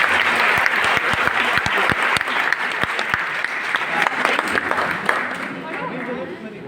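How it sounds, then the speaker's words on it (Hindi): Loud, sustained applause from an audience at a UP-PCS toppers' meet-up at Allahabad University, dense clapping running steadily throughout with crowd chatter mixed in. "थोड़ा और तेज तालियां"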